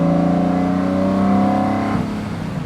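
A Lamborghini Murcielago V12 supercar engine revs up to about 4,000 RPM on a road by the Pacific Ocean, a loud, close rising whine that holds and then drops off abruptly.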